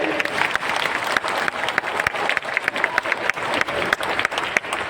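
An audience at a Janmashtami festival stage event breaks into loud, sustained applause, a dense steady clatter of many hands clapping for the full stretch with a faint crowd murmur underneath.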